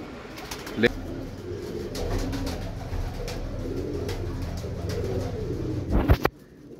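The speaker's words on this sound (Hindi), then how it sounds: "कबूतर तो हमारे पास कम बचे हैं" Female racing pigeons coo in low, throaty murmurs close by, a steady soft burble running through the clip with a brief rustle near the end.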